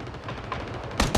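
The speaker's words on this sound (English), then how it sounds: "Oh fuck, I'm getting shot at." Gunfire in the video game PUBG: a steady rumble of distant shots, then two loud, close bangs in quick succession near the end, with no talk.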